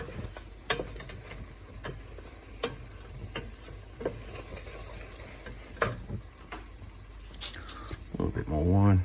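Tomato paste in a pot for a vegetable stew is scraped and stirred with a utensil, giving soft repeated scrapes and taps at an uneven pace, fairly quiet, with a brief clatter near the end.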